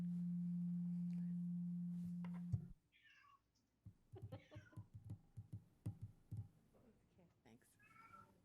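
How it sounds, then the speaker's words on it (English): A cat meowing faintly several times during an online meeting, its high cries mixed among people talking, after a steady electronic tone cuts off. "I hear a cat."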